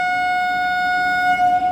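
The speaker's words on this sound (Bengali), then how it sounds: "এই দেখো হর্ন বাজিয়েও দিল, এখন এখান থেকে বেরিয়ে যাবে" A train at Gede station near the Bangladesh border sounds its horn just before departure, one loud sustained steady blast held close and alone for nearly two seconds.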